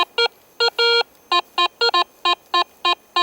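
A metal detector gives a series of short electronic beeps in an uneven rhythm, some doubled, a nickel-like signal, clear and close against a quiet background.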